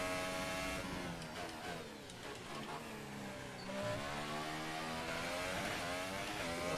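F1 race car engine in F1 2018 at the United States Grand Prix, a loud, continuous high-pitched whine that dips and rises with shifting revs throughout, with no talk over it.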